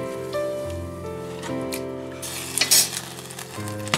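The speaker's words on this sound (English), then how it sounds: "What you're gonna do is you're gonna mix this in" A Fish Creole mixture with hot sauce and basil being stirred in a hot pan, giving a soft sizzle with scraping and a brief louder clatter partway through, with no talk.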